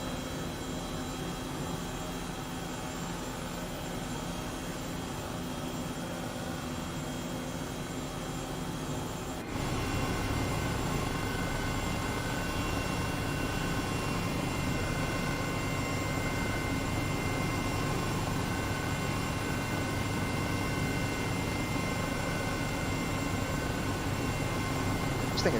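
Airbus H135 helicopter in flight within Microsoft Flight Simulator, crossing the bay near San Francisco on a virtual medevac run; a steady, loud rotor and turbine drone fills the whole stretch, rising slightly in level partway through, with no talking.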